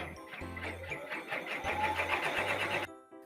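An embroidery machine on a quilt frame stitches at 500 stitches per minute, a fairly quiet mechanical whir with a fast regular needle pulse and low motor hum that cuts off near the end.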